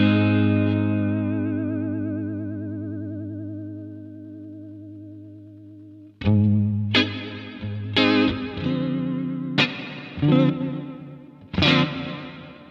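Vintage 1970s reverb paired with vibrato on a Leslie-like setting: a long sustained chord decays slowly, its wavering reverb tail trembling, then five sharp chords strike in quick succession, each blooming into a shimmering, pulsing wash.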